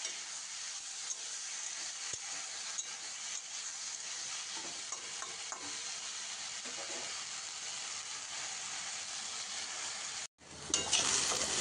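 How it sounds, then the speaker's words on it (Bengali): Potatoes fry in a pan after black cumin seeds are tempered in the oil, giving a steady, close sizzle with occasional stirring scrapes before a brief cut to a louder hiss. "আর এখন আমি আলুগুলো ভেজে নেব।"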